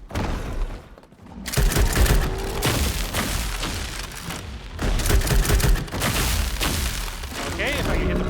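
Gunfire against a boss in the survival game Nightingale, loud and dense with repeated booming shots and thuds across the whole stretch, mixed with game sounds and effects.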